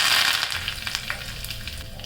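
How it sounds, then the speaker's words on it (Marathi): Mustard seeds crackle and sizzle in hot oil as a tempering for chutney, a dense, close, steady spitting that eases slightly after the first moment. "चटणीला आपण तडका देऊया त्यासाठी मी तेल गरम करून घेतलेलं आहे या तेलामध्ये थोडी मोहरी"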